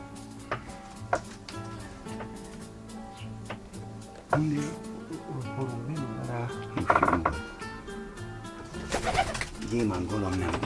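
Pigeons coo throughout a bird loft, soft repeated calls layered with chirps from small birds and the occasional clatter of wings and wood, while someone talks over them.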